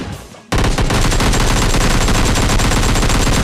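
Rapid automatic M4 rifle fire in PUBG Lite erupts suddenly after a brief lull, a loud, dense, continuous burst of shots close to the listener with no pause.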